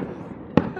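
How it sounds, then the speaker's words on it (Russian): A single sharp burst from a fireworks salute at an outdoor summer evening display, striking once near the end after a stretch of low background rumble and murmur. "Дима, пока включит камеру, сразу закончится салют."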